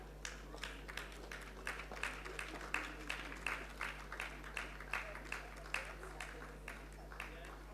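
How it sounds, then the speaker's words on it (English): Applause from a convocation audience for a graduating batch, heard as a steady rhythmic clapping pulse, faint and distant over a low constant hum, with a voice also speaking. "Let's give them a huge round of applause."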